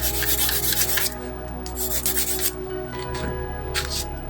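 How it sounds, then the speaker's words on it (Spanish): A pencil tip is sharpened by rubbing it on sandpaper, producing close, rhythmic rasping strokes in several bursts of scratchy friction. "También puedes afilarlo en una lija"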